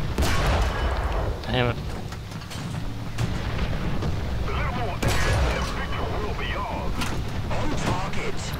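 Tank cannon and gunfire in the video game War Thunder, several heavy booming shots and impacts scattered through a dense, loud battle din, with someone talking briefly over the action.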